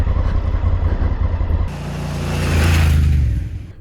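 A motorcycle rides through near a castle in the Mecklenburg Lake District, its engine a loud steady drone that shifts and rises in pitch as it accelerates, close and continuous with wind noise.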